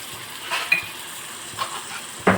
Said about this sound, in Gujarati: તેલ આપણું ગરમ થઈ ગયું છે એટલે 2 ચમચી જેટલી આદુ, મરચાં અને લસણની પેસ્ટ એડ કરશું